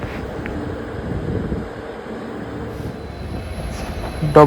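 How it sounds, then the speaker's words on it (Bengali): Bolpur–Howrah Shantiniketan Superfast Express (12338) creeping into Howrah Junction, a low steady rolling rumble with faint wheel squeal and a sharp metallic screech near the end, heard from inside the train, no voices. "আমাদের ট্রেন প্রবেশ করছে হাওড়া রেলওয়ে জাংশন"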